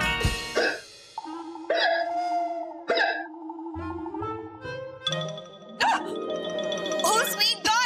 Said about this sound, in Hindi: भाभी को हिचकी आ रही है।